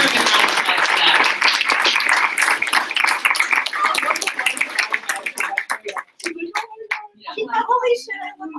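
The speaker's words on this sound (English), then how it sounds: "let's give her a big round of applause for that." Audience applause at a live training event, dense clapping from a crowd that holds for several seconds then thins into scattered claps and fades as a voice begins talking near the end.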